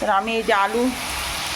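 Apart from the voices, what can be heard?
frying potatoes in pan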